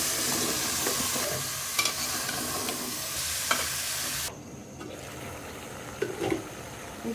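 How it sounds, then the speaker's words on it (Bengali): Radish pieces dropped into hot oil with ginger-garlic paste, turmeric, chili and coriander powder and a green chili. A loud, steady close sizzle with stirring scrapes runs throughout, easing and quieting partway through. "এটা এখন আমি দিয়ে দিব এখানে মূলাগুলো।"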